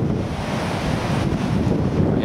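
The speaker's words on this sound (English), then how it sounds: "This is Chaggie's private beach" Waves and wind at a Gold Coast beach make a steady roar of surf with gusts buffeting the microphone, loud and continuous throughout the short stretch.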